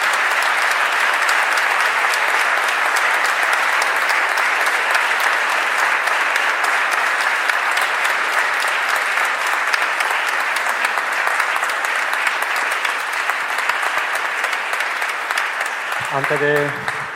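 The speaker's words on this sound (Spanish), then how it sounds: "un fuerte aplauso para ellos" A large audience at an anniversary tribute event gives the organizers long, sustained applause, thick and unbroken for over fifteen seconds before a voice cuts in at the very end.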